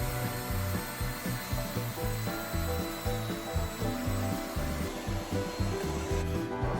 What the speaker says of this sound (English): Now that the boards are shorter, I can use the ripping fence as my guide for a perfect cut.